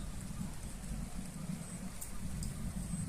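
Steady rain falls during a thunderstorm, a dense, even wash of drops on surfaces close by with no clear thunder rumble, continuous throughout.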